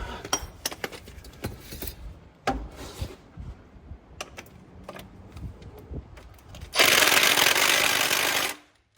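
A 1/2 inch 12-point socket works on tight bolts during a teardown of a 1998 Peterbilt 379: scattered metallic clinks and knocks, then a loud, harsh two-second burst of rattling power.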